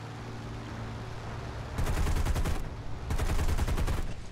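Two bursts of rapid machine-gun fire from an F2A-1 aircraft in the War Thunder combat game, loud and close, each lasting under a second over a steady engine drone.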